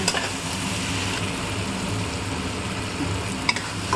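Ginger-garlic paste and tomato fry in a pan for chicken curry, giving a steady, close sizzle with soft stirring scrapes throughout and no voices.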